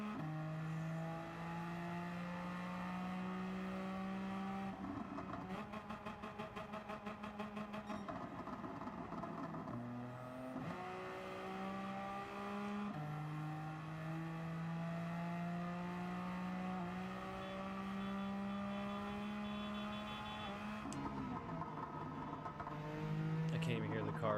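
Car engine in the CarX Drift Racing video game, a steady droning engine note that rises and drops through gear changes for the whole stretch, loud and continuous, with a buzzing patch partway through.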